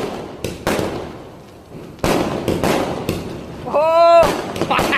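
Firecrackers going off during Diwali celebrations, several sharp bangs scattered across the moment with a whistling rocket-like tone near the end, mixed with nearby voices and chatter.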